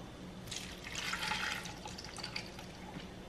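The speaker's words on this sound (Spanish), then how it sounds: "Voy a poner un poco de agua." Water poured into a drink: a soft, close trickle and splash that swells for about a second and then thins into lighter dribbling, fairly faint, with no talking over it.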